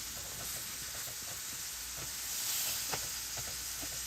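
Garlic butter shrimp sizzling steadily in an oiled pan, a dense, even hiss with a few soft clicks and taps as the pieces are flipped over; no voices.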